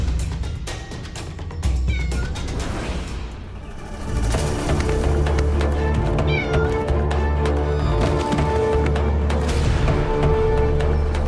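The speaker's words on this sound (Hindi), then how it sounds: "इस मनहूस बिल्ली को हटाओ यहाँ से।" A cat meows a few times, close by and fairly clear, over a dramatic music bed with low booming hits that swells louder partway through.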